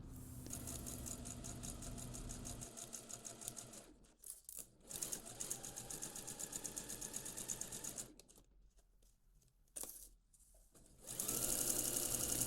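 Sewing machine stitching a seam on a western-style blouse, running in steady fast bursts with short pauses between runs, close and fairly loud with no talking.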